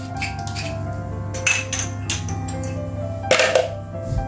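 A spoon clinks against a bowl while cinnamon is stirred into a granola mixture, with a few separate scraping clinks and two louder knocks of utensil on the dish over a steady low kitchen hum.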